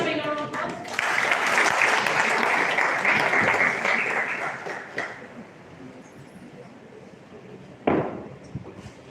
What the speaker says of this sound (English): Everyone, make a round of applause.